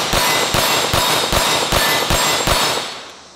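Rapid string of sharp, loud gunshots from a race pistol firing steel-cased ammunition, about seven evenly spaced cracks over three seconds emptying the magazine, then a ringing tail fading out.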